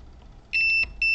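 A multimeter's continuity tester probes a laptop motherboard and answers with sharp, high-pitched electronic beeps: one steady tone, a brief gap, then a second, close and loud.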